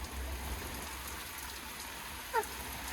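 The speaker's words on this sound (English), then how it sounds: "it was sunny and then it rained" Steady rain falls with an even hiss and patter; a brief faint chirp cuts through near the end.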